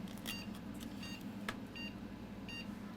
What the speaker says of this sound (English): We still have the 6 beeps, of course.